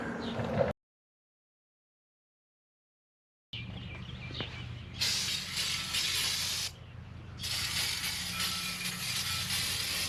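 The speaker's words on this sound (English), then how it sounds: "A final cleaning with brake cleaner before painting the dust shield." Brake cleaner sprays in loud, close hissing bursts onto the disc brake dust shield of an '86 Ford diesel Ranger 4x4, after a brief gap of silence, with a short break between the two long blasts.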